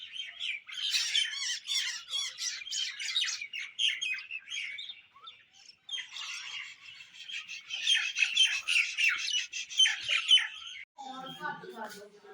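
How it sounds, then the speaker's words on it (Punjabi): Dense morning chorus of about 250 birds chirping and squawking together, continuous and busy, with a brief lull midway and a few lower calls at the end. "ਘੱਟੋ ਘੱਟ 250 ਪੰਛੀ ਹੋਊਗਾ ਜਿਹੜਾ ਇੱਥੇ ਬੈਠਿਆ ਦੇਖੋ ਇਹ ਕਿੰਨੀ ਪਿਆਰੀ ਪਿਆਰੀ ਆਵਾਜ਼ਾਂ ਕੱਢ ਰਿਹਾ"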